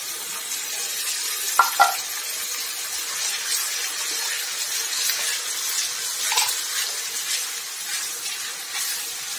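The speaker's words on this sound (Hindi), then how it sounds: "अच्छे तरीके से हम इसको भून लेंगे प्याज को।" Onion and green chili paste sizzles in a hot pan, a steady soft hiss with faint crackles, plus a couple of sharp metallic clinks from a utensil early on, and no voice over it.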